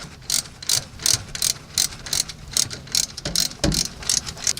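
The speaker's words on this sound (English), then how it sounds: "You can use a 10mm socket like I'm using" A 10mm socket on a ratchet loosens the fuel fill line clamp on a 2010 Toyota Tundra during fuel pump replacement, giving close, repeated quick clicking bursts in an uneven rhythm.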